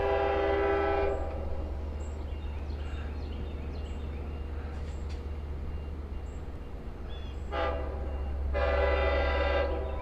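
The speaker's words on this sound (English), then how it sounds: "There's the whistle for the horn for Jagger Lane, which is just to the east of the Speonk yard." A Long Island Rail Road train sounds its horn near the Speonk yard, giving a loud blast, then a gap with a low rumble, then a final long blast.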